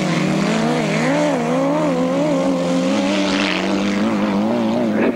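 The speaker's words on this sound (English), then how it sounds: "This is the revs coming in of that X-Up engine, that Yamaha FZR1000R X-Up engine of John Fish's bike." Yamaha FZR1000R engine on a grasstrack racing bike at a 1992 meeting, revving with a wavering high note that climbs and dips as the throttle is worked, loud and sustained.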